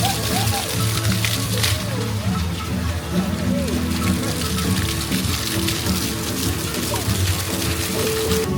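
Water splashes steadily at an interactive water feature on EPCOT's Journey of Water trail, a constant watery wash under voices from people nearby.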